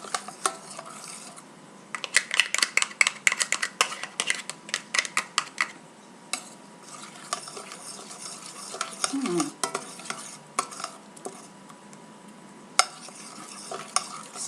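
Shrimp and vegetables in a butter sauce are mashed and stirred in a sizzling pan, with dense bursts of spoon-on-pan scraping and clatter over a steady close sizzle, easing into quieter stirring and occasional knocks.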